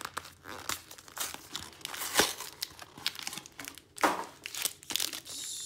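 Paper wrappers of Magic: The Gathering Ravnica Allegiance theme booster packs crinkle and tear close up, in uneven bursts of crumpling with a couple of louder rips.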